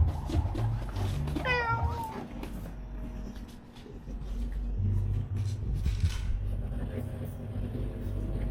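A cat in a cat cafe lets out a single clear rising meow, close and fairly loud, amid a busy room with a low steady hum and people talking in the background.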